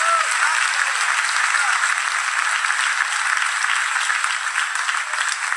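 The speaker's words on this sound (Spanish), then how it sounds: "Denle un aplauso al Señor." Church congregation applauding during a worship service, a steady dense wash of clapping that fills the whole stretch, loud and even with no talk on top.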